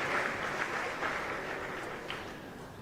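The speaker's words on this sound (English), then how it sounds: "as we give them another round of applause here in this gymnasium" A crowd in a gymnasium claps for youth basketball teams at a national championship, a steady patter of applause that echoes a little and fades slowly.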